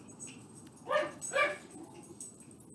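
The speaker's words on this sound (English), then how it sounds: "Sorry, the dog is barking in the background." A dog barks twice in the background, giving two short, fairly faint woofs about half a second apart over a quiet indoor hum.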